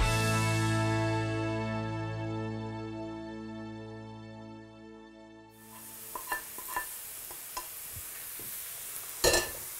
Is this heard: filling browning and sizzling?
yes